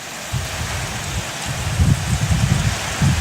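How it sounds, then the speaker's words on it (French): Heavy rain suddenly pouring down at a horse stable, a loud dense roar of drops with rumbling low gusts swelling and pulsing underneath. "Il a juste commencé à pleuvoir, genre comme ça. Il y a tellement de pluie"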